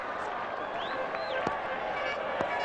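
Steady stadium crowd murmur in the cricket video game Cricket 2000, a Pakistan versus England Test match, a dense continuous wash of distant spectators with a couple of faint sharp knocks, no clear speech.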